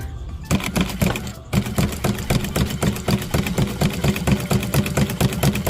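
An automatic sewing machine fitted with a ruffles attachment for pleating runs in a fast, steady mechanical rattle after a brief start, loud and close, with no talk over it.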